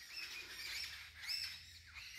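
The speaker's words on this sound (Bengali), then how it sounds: "পাখিগুলোর ডাকও খুব সুন্দর" Birds chirp softly in a misty forest in Jhenaigati, Sherpur, with a few thin, drawn-out calls over a quiet low rumble and no speech.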